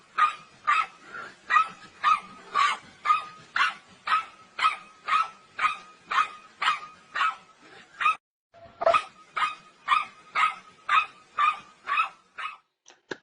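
Two small dogs bark in a fast, regular series of sharp yaps, loud and close, pausing briefly midway before the barking resumes.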